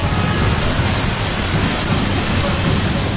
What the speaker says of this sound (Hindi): प्राय एक घंटा धरी घड़घड़ी सह प्रबल वर्षा हेबारु रास्ता घाट रे हंतसंत होइतिले यात्री